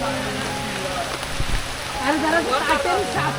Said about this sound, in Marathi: पाऊस बघा असला मजबूत पाऊस पडतोय